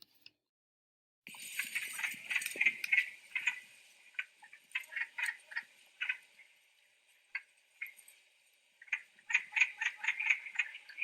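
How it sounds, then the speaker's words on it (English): Wood frogs croak in quick, clucking bursts after a brief silence, a chorus of short duck-like calls coming in irregular clusters at moderate distance. "what you might hear from a wood frog"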